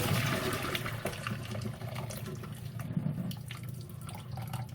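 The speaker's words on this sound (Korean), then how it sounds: "파스타가 다 익어서 파스타를 체에 받쳐서 이제 물기를 빼도록 하겠습니다." Cooked pasta is tipped into a sieve and water pours and runs off in a continuous, fairly quiet splashing rush that eases slightly toward the end.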